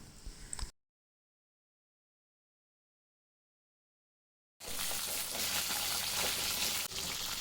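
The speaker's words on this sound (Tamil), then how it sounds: "10 சின்ன வெங்காயம் போட்டு வதக்கலாம்." Small onions sautéing in hot oil for a fish curry: a brief sizzle, then total silence, then a loud, steady crackling fry resumes for the rest of the clip.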